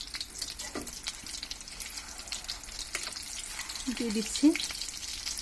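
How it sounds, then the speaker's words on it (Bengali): Potato fritters (aloo chop) frying in a pan of hot oil, a soft steady sizzle with a few brief bubbling pops, heard faintly beneath a short spoken remark. "এখন আমরা এটাকে ভালোভাবে ভেজে নেব।"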